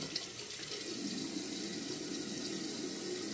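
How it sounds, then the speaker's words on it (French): Tap water runs steadily as a razor is rinsed under the stream, a continuous close hiss with no speech. "Et on rince"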